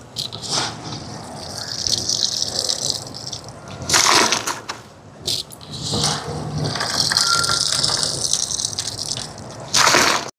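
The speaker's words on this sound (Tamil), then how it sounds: "அரிசியை கழுவி எடுப்போம்" Rice being washed in water in a large pot for a charity food offering, with splashing, sloshing and gushing water and occasional clattering, close and loud with no voices.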